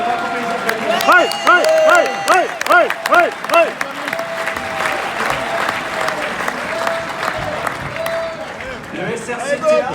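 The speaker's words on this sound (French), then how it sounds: "Je crois qu'on peut les applaudir." Applause from a union congress audience in Dijon, a dense crowd clapping that stays loud and steady throughout, with a musical jingle playing over the first few seconds.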